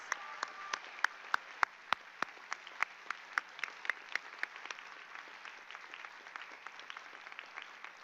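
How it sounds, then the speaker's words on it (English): A graduation audience claps for the parents, friends and professors in the room, a steady wash of applause with sharp separate claps standing out near the front, fairly quiet and going on without voices. "Come on, big round of applause."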